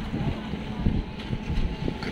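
Wind blows steadily across a microphone aboard the motor boat "Moskva" cruising the Volga near Samara, a constant low rumble and buffeting with no talk.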